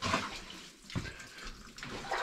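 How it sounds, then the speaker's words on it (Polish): Water pours and splashes inside an abandoned mine, a faint rushing flow with a sudden louder gush midway, echoing softly in the enclosed underground space. "Woda się leje, jak to zwykle bywa w takich obiektach."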